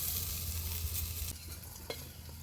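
Potatoes fry in a pan of oil and get stirred, giving a soft steady sizzle with a faint scrape of a spatula partway through, close and quiet, with no voices.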